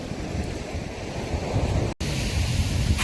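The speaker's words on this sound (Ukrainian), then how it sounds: "Ми йдемо дивитися на гігантські хвилі." Giant storm waves crash on the shore in a loud, continuous roar with heavy wind buffeting the microphone and one brief dropout.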